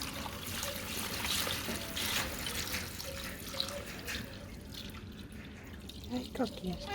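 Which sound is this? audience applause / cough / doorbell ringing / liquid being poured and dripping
liquid being poured and dripping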